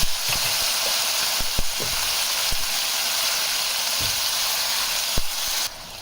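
Tomatoes cook in a pan on a low flame, giving a steady close sizzle with occasional soft pops and taps of a utensil, ending abruptly near the finish.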